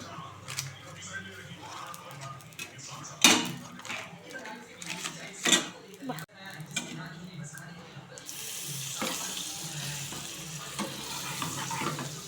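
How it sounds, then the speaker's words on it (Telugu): French toast fries in butter in a pan, a soft crackling sizzle with a few sharp utensil clacks, the frying turning more hissy toward the end while someone talks over it. "నేను ఇక్కడ బటర్లో ఫ్రై చేస్తున్నా"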